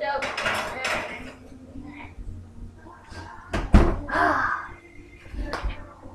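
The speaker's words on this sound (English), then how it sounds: "And now we stick it in the oven." A dish is slid into a hot oven and the oven door thuds shut, with clattering metal and cookware knocks under ongoing talk in a home kitchen.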